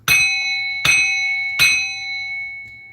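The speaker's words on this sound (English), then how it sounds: "I'm going to bang this bell" A small ringing bell is struck three times at an even pace to close a spiritual reading, each bright metallic strike blooming and sustaining a long shimmering tone that slowly decays, close and clear without speech.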